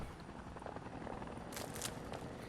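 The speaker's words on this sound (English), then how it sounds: "Makes vertibirds sound like real helicopters." A vertibird helicopter in Fallout 4, with a sound mod that makes it sound like a real helicopter, gives a faint, distant, continuous rotor drone with a few brief crackles. No voices are heard.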